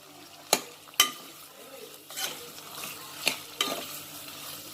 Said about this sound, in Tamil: இதை நல்லா உப்பு போட்டு வதக்கிக்கலாம். இதை நல்லா வதங்கட்டும்.